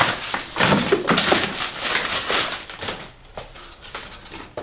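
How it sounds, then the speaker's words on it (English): Crinkly plastic and paper packaging being torn and pulled off a new balance bike seat, close and irregular rustling bursts with brief pauses. "So I'm going to unwrap the seat."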